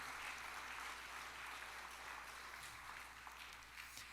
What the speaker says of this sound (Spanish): Dele fuertes palmas al Señor